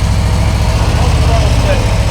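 A Harley-Davidson motorcycle engine rumbles loud and close under light throttle, a steady low, throbbing drone with faint pulsing, while a voice talks over it.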